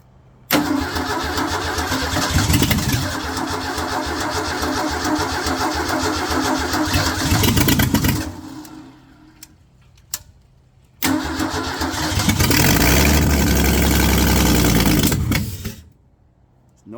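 A 1953 Ford 4x4 with no muffler cranks and catches, roaring loud and raw, then dies away. After a short pause it cranks again and bursts back into a heavy, unmuffled roar before cutting out.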